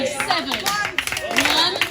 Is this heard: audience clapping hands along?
yes